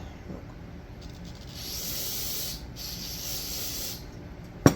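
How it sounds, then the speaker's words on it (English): Carburetor cleaner hissing from a spray can into the small holes of a Holley carburetor body during a rebuild, a steady mid-level spray of about two seconds ending with a sharp click. "Alright, spray back in through the hole."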